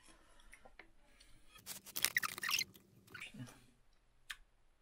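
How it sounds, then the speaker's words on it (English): Someone chews food close by, a soft wet rhythm with a louder crunchy burst near the middle, mostly quiet otherwise with no clear talk. "I can't do this while you're chewing."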